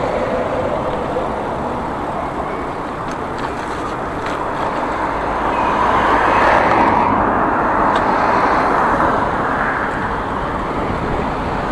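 A car drives along a city street in Ivano-Frankivsk on a commute, with steady tyre and road rumble heard from inside and a gentle swell of engine and road noise midway.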